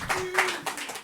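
Audience applause at a slam poetry night, scattered hand claps building in short bursts over about a second, moderately close with some crowd noise and no speech.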